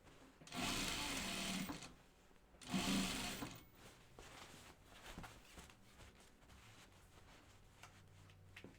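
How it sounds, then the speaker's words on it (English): Two short bursts of a sewing machine stitching the edge of a thick-fabric vest, close and distinct, followed by quiet handling of the fabric. "let's continue stitching this edge and then we'll put our binding on"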